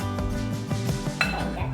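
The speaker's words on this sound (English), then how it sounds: "Let's mix the eggs once more." Eggs being mixed in a bowl while making breakfast avocado toast, heard as a steady run of close, light clinks and scrapes of utensil against dish, with a few sharper taps partway through.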